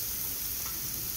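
Grass carp stir fry sizzling on a seasoned Firedisc cooker outdoors, a steady close hiss of frying with no breaks and no voices.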